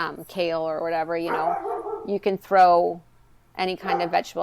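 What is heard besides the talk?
dog barking in the background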